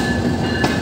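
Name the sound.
Modhumoti Express train entering platform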